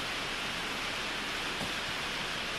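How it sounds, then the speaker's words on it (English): Heavy rain drums on a metal roof overhead, a dense, constant hiss of impacts that fills the space evenly and steadily with no pauses and no voices over it. "it's kind of loud in here because I got a metal roof. You can hear a lot of the rain on there"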